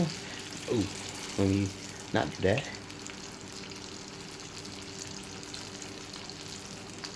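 Philly cheesesteak egg rolls drop into hot oil, giving several short bursts of bubbling sizzle followed by a quieter steady frying hiss, with a brief spoken remark nearby.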